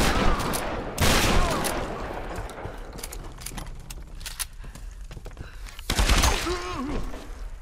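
Shotgun blasts in the video game Tomb Raider: loud, close booms that come in bursts, with heavy hits near the start and again later, over a dense layer of combat noise.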